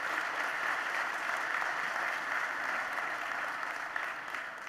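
Steady applause from an audience at a speech, moderately distant clapping that continues evenly throughout without talk.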